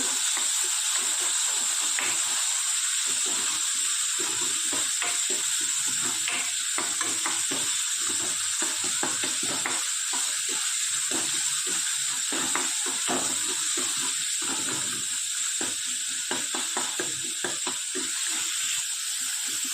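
Tomatoes and a green chili fry in a pan at home, a steady close sizzle with faint crackles and occasional stirring scrapes running throughout, no voices.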